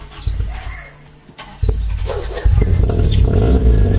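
A Mitsubishi Lancer GLXi, cold after sitting for two months, cranks and starts: a few quiet moments and a brief click give way to a sudden catch, then the engine settles into a loud, close, steady low idle.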